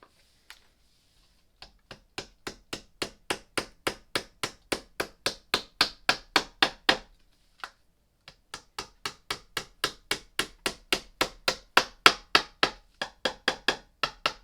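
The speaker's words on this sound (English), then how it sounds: "you use your handy dandy hammer to do it." A steady series of sharp, evenly spaced taps of a hammer knocking small plastic plugs into an IKEA drawer chest, running in two bursts with a short pause between.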